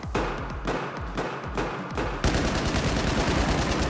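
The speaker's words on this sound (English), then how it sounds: "these guys are firing rocket launchers at us" Battlefield 4 combat on PlayStation 4, with evenly spaced heavy rifle shots that give way to a loud, continuous roar of rapid automatic fire and explosive thuds, dense and close throughout.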